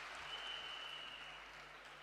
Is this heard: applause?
yes